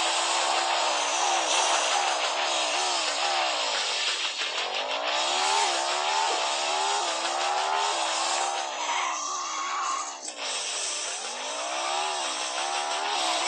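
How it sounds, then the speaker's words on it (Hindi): Engine roar from a car in the mobile driving game Extreme Car Driving, with a continuous loud revving drone whose pitch sweeps up and down through gear changes, alone without talk. "ऐसी इलाकों में गाड़ी ड्राइव करने का बड़ा मजा आता है और इसकी साउंड भी बड़ी मजे के"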